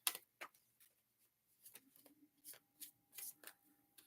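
A deck of tarot cards is shuffled by hand, quiet crisp riffles and flicks arriving in short irregular bursts, close and faint with no talk.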